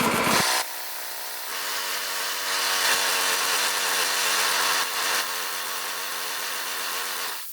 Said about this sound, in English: There we go, running out of gas.